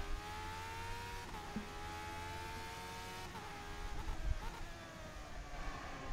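Race car engine in a racing video game on the Sebring circuit, a high whining drone with repeated rises and drops in pitch as gears shift and revs change, steady and close.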